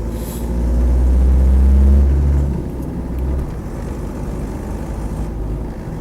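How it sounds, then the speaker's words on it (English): A Land Rover 90 with a 2.5 diesel engine and a slight exhaust leak at the manifold-to-downpipe joint accelerates, giving a loud, steady low drone with a harsh edge that swells and then eases back to a constant hum. "I'm sure it's got a very slight exhaust leak from the manifold to downpipe joint. Just hear a bit of harshness under acceleration"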